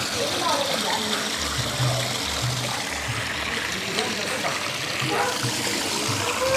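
Water runs steadily from a hose during cleaning of a rooftop water tank, a continuous wash of flow and splashing heard close throughout, with low thumps underneath.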